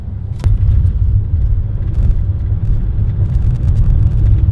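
Drift cars at a Powerdrift drift championship, a loud, close engine roar and rumble that holds steady with brief surges.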